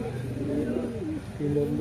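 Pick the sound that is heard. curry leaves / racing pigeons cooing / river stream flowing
racing pigeons cooing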